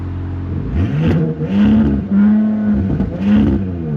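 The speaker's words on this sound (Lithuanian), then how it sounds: "Štai taip gražiai skamba šitas S5 varikliukas" Audi S5 engine in sport drive mode, revving loudly and closely in several rising and falling pulls, with a deep growl between each rev.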